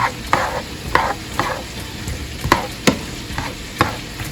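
Chopped onion and garlic cloves fry in a pan while being stirred, with a steady close sizzle broken by about ten scraping stir strokes at an uneven pace, and no voices.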